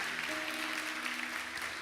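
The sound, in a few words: congregation applause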